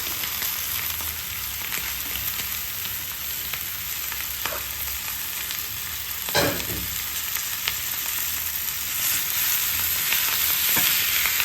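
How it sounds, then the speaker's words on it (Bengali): Boiled potatoes fry in a pan as coriander leaves are added, with a continuous close sizzle and several distinct scraping stirs of a spatula. "তো ভাজা ভাজা হচ্ছে, এই সময়ই আমি এতে দিয়ে দেবো বেশি করে ধনে পাতা।"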